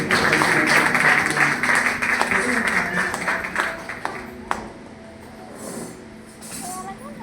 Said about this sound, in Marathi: आणि पण जोरदार टाळ्या वाजवूया